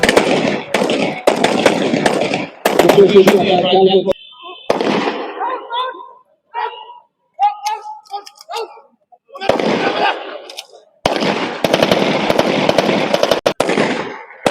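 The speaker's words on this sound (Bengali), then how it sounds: "সময়তে উপর্যুপরি ফায়ার প্রদানের মাধ্যমে সন্ত্রাসীদের নিরস্ত্র করার প্রক্রিয়া চলমান রয়েছে" Bursts of rapid gunfire crack out loud and repeatedly during an army infantry exercise in Barishal, with dense volleys at the start and end and a quieter stretch where voices speak between shots.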